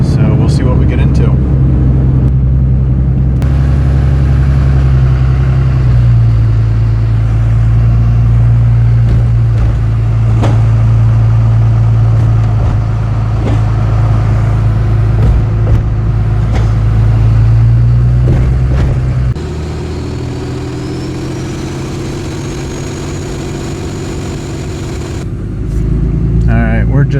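A car cruises along a paved road in Oregon with a dusting of snow on the roadside, its steady, loud engine and road rumble continuous throughout, the tone dropping and easing in the last few seconds.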